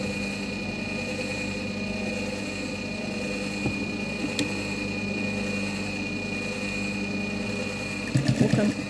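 A sewing machine stitches a jellaba in a steady, close mechanical whir with a constant high tone, running continuously, then ending in a brief burst of clatter.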